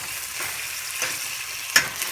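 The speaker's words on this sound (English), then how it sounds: "So kind of just saute this for a few minutes." Chicken pieces sear in a hot pan for Filipino chicken afritada, a steady close sizzle and crackle with a few brief louder pops from stirring, and no voices.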